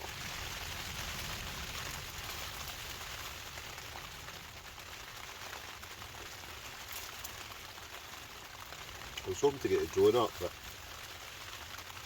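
Heavy rain drums steadily on a hot tent, a Dome X4 pitched for wild camping in Scotland, as a constant close hiss, with someone briefly speaking near the end.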